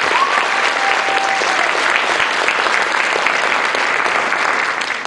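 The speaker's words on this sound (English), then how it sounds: "So we'd like to have a big round of applause for these gentlemen." Sustained, dense applause from a school spring concert audience honouring band members, steady and loud throughout with a slight fade at the very end, no talk over it.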